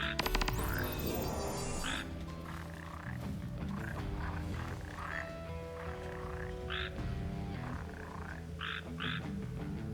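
Frogs croak continuously in the Final Fantasy XV video game, with repeated throaty calls layered over steady game music and ambience throughout.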